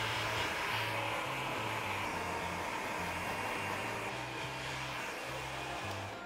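A handheld blow dryer runs continuously at close range, rough drying freshly shampooed and conditioned wet hair, with a steady airy whoosh and a faint pulsing hum underneath.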